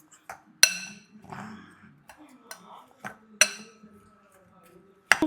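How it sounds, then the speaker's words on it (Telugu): A ladle clinks and scrapes against a metal vessel while a raw mango spicy dish is mixed, sharp irregular taps spaced across the stretch, close and fairly crisp, with soft voices in the background. "ఇప్పుడు మనం ఒక గరిటె తీసుకుని ఇలా మొత్తం కలుపుకోవాలి"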